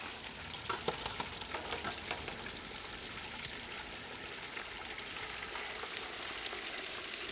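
A whole Cajun-seasoned turkey is lifted out of hot frying oil, which hisses and bubbles steadily, with a brief run of crackling pops early on and no voices.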